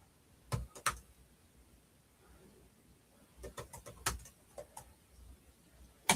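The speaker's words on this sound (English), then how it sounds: "I'm doing a little bit of typing here first." Bursts of computer keyboard typing, quiet and close, with short clusters of key clicks separated by pauses and a louder tap at the end.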